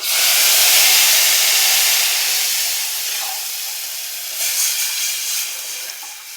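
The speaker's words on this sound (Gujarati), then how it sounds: "સાતથી પાંચ આપણે મેથીના દાણા નાખશું અને વઘાર કરી લેશું" Mustard seeds, cumin, cloves, bay leaf and fenugreek seeds crackle in hot oil for a Kathiawadi kadhi, giving a loud, steady sizzling hiss that eases slightly and then flares again near the end.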